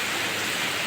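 Heavy rain pours steadily at a home where cots sit out in the open, a dense, even hiss with no breaks and no voices.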